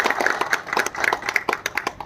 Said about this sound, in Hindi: तो एक बार थोड़ी जबरदस्त तालियां आनी चाहिए।